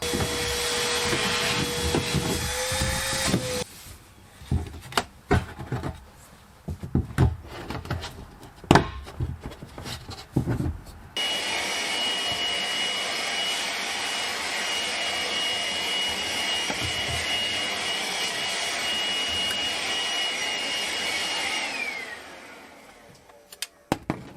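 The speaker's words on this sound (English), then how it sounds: "I'm going to vacuum out this tank." A shop vacuum roars loudly while vacuuming out a tank, cuts out for a stretch of clattering knocks, then starts again with a steady high whine before shutting off.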